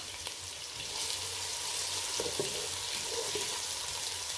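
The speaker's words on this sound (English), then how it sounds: "Let me fry these onions" Onions fry in a pan for a matoke and beef dish, a steady soft sizzle and crackle at low level with a few faint clinks, no voices.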